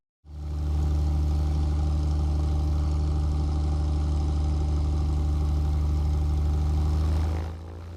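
A Piper Cherokee Six's engine runs at full power for takeoff on runway 22 at Catalina Island. A loud, steady, droning roar starts abruptly and holds evenly for about seven seconds before dropping off, heard alone without speech.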